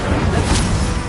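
Incendio fire spell cast in Hogwarts Legacy, a dense, loud roaring whoosh of flame that fills the moment with a brief surge midway and no speech.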